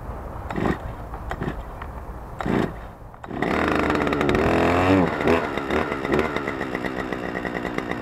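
A STIHL FS 250 petrol brush cutter is pulled several times, then fires up and runs with a loud, buzzing two-stroke drone that rises in revs and then settles into a steady, fluttering idle.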